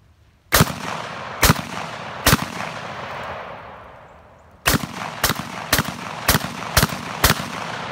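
Gunshots crack out loud and near: three spaced shots, a fading lull, then a quicker string of about seven shots in steady rhythm, each with a short echoing tail.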